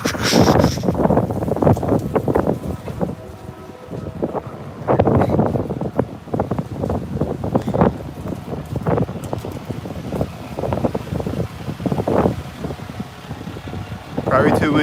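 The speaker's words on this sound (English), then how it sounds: "Probably too windy to catch all the sounds" Strong wind buffets the microphone in loud, continuous gusts and rumbles throughout, with faint talk buried underneath.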